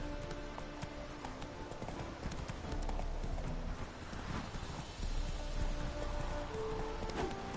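Roach, the horse in The Witcher 3, galloping with a rapid, steady clip-clop of hooves, close and continuous, over a soft rain-like wash.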